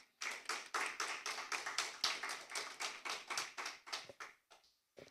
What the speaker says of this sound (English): a huge round of applause for our debaters for the efforts made in the prepared presentations